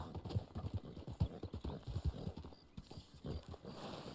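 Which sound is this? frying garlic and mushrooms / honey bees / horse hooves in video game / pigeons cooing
horse hooves in video game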